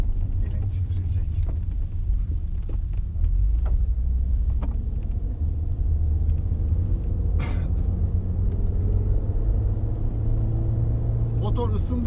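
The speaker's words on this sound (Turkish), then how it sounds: "Şimdi ısındıkça aracın sesi açıkçası azaldı." 2000 VW Golf 4 engine running while driving on a test drive, a steady low rumble of engine and road noise throughout with occasional clicks, and people talking over it.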